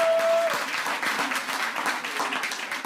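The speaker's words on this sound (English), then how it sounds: "I would like everyone to give Dr." Audience at a hospitality institute graduation ceremony applauding Dr. Cornwall, a dense wash of clapping from many hands that opens over a brief tone and then continues steadily.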